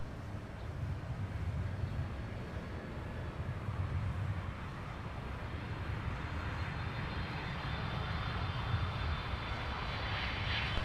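A United airliner departs runway 17 at Minneapolis–St. Paul airport, its engines a steady, broad roar heard from a distance that holds throughout without any voices.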